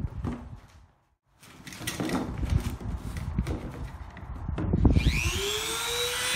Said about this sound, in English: I'm going to trim the end of that off here on my fancy workbench